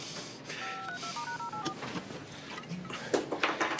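A telephone keypad plays a quick run of dialing tones, about eight short beeps, faint and close, before a burst of handling noise.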